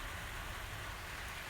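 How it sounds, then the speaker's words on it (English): Rain falls in a steady, even hiss that holds at the same level throughout, with no voices over it. "You can probably hear the rain falling."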